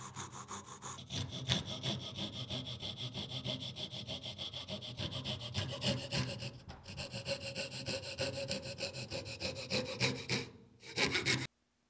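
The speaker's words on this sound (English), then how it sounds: "you can just rotate the saw like this while you're sawing" Steady back-and-forth coping saw strokes through wood, a rhythmic rasping that runs for several seconds with a brief pause near the end.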